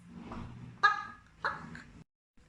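Duck quacks in a children's farm story, two or three short honking calls spaced about half a second apart, fairly close and clear over a quiet background, with no talking.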